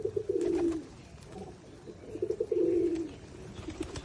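Pigeons cooing in a pigeon house: two clear bursts of low, throaty cooing, near and moderately loud, separated by a quieter stretch with faint chirps, and no talking.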